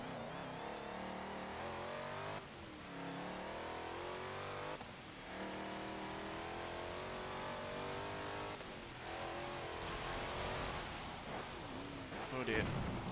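Engine of a 2012 Jeep Wrangler Rubicon in Forza Motorsport 7 revs hard and continuously, the pitch climbing and dropping through repeated gear shifts, loud and steady with a brief burst near the end.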